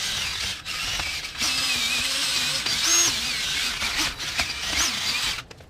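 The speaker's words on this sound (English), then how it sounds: "Just wire wheeling this up." A wire wheel on a tool scrubs dirty ball joint studs on an S13 240SX, a continuous bright whirring scrape with a few shifts in pitch, close up and without talk.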